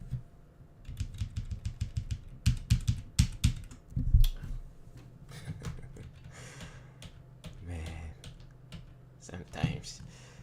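Rapid clicking keystrokes on a computer keyboard, with bursts of typing in quick uneven runs and loud key taps, heard close by over a quiet room with a person's breathing.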